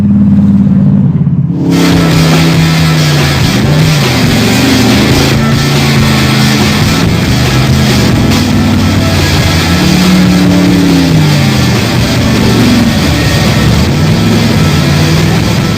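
A Ford Mustang muscle car engine revs loudly and continuously, its deep rumble rising and falling in pitch as the throttle swells, close and alone with no talk.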